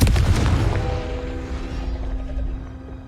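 A Confringo blast spell exploding in the Hogwarts Legacy video game, a loud close boom that rolls off into a fading rumble with a lingering tonal ring.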